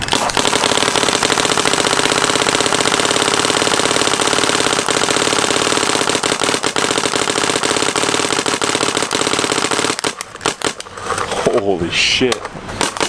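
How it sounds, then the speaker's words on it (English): Paintball marker firing rapidly, fed by a CRBN DRV loader with Falcon paint: a loud, continuous machine-gun-like stream of shots for about ten seconds, then stopping as a voice exclaims. "It sounds like a machine gun over here."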